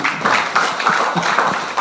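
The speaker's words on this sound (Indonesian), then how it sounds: "Tepuk tangan sekali lagi buat Pak Ai." Applause from an audience at a presentation about a car program, a brief burst of rapid clapping that is near and fairly loud, with a few uneven louder claps and no speech.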